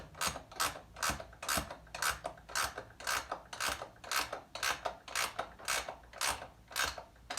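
A hand ratchet tightens the nut on a bolt-and-cushion style bar mount in a steady run of about a dozen evenly spaced rasping clicks, close and quiet, with no talk.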